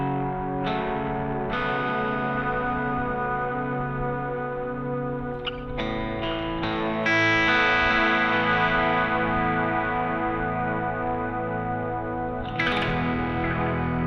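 Electric guitar notes ring out through a heavy effects pedal, long sustained tones washing into spacious reverb and echo, with a few fresh plucks layered on top.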